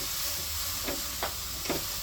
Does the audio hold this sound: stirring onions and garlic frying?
yes